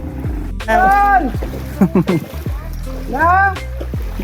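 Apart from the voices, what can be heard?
jet ski running in flood water, exhaust submerged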